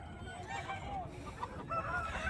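A Kakinemali breed rooster crows at a busy rooster market, the call ringing out clearly over a steady crowd murmur and nearby chatter.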